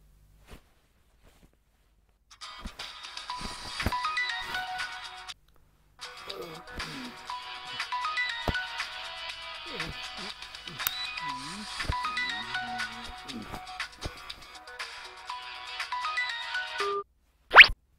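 A mobile phone rings, called from a landline indoors, its melodic ringtone repeating for about fifteen seconds at moderate volume with a short gap partway through. A few faint knocks and rustles sit under it, and the ringing stops abruptly near the end.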